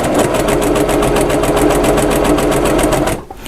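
Baby Lock Accomplish sewing machine stitching a fabric placemat, a steady rapid stitching rhythm running loud and close for about three seconds before stopping abruptly.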